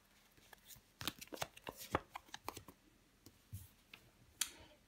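Tarot cards are laid out and handled: soft, irregular flicks, slaps and brushing of card stock close by, with quiet pauses between them.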